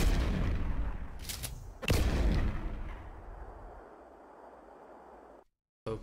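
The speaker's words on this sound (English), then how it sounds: "So here are just a couple of pump action shotguns." Pump-action shotgun blasts in the video game PlanetSide 2: two heavy booming shots about half a second apart, each trailing off into a rumbling decay, with a short silent gap near the end.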